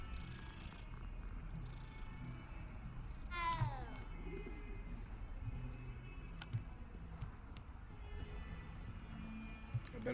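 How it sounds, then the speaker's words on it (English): A cat in a Harry Potter-themed video game meows once briefly over a steady low purr and ambient game hum, with soft scattered clicks. "Just petting all these fucking cats."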